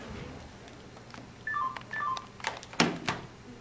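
A phone gives a short run of electronic dialing-tone beeps, two paired tone bursts followed by sharp clicks and clatter, fairly close in a quiet room.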